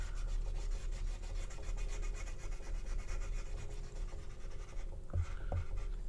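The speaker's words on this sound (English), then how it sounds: "So we're gonna Sharpie it out." A Sharpie marker drawn over a painted surface, a steady close scratchy rubbing that runs on evenly, with two brief knocks near the end.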